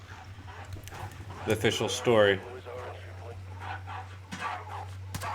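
A dog in Call of Duty Modern Warfare gives a short burst of barks and a yelping whimper, sharp and close, among a steady low hum and people talking.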